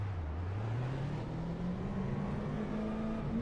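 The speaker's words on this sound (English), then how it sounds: "Freaking love the way these cars sound." A race car engine drones steadily and rises slowly in pitch as it revs, heard from a distance through a continuous roar at a live NASCAR truck, late model stock and sprint car event.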